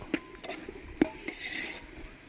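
A spoon scrapes and clinks against a cooking pot while biryani masala is stirred in a village kitchen: a few distinct metallic knocks and soft scraping strokes, close and fairly quiet, with no talk.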